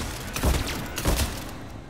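Gunfire in Mass Effect 3 as a person is shot down, two heavy booming bursts about half a second apart over steady game ambience, no talk.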